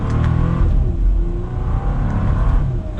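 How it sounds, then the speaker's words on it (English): A 2021 Bentley Flying Spur W12 accelerates in manual mode, its engine and exhaust giving a steady, smooth mid-pitched hum from inside the cabin, rising gently in pitch as speed builds. "you can hear that exhaust slightly, but we're up to the speed just like that"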